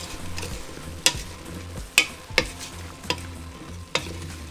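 Seasoned picadillo meat and potatoes with salt and pepper are moved around a pan, giving a low sizzle with several sharp scraping clacks of the utensil spaced about a second apart, close up, no voices.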